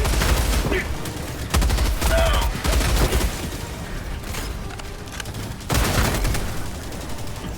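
Rapid automatic weapon fire from Helldivers 2 in bursts against Automaton enemies, dense and loud throughout with overlapping explosions and mechanical noise.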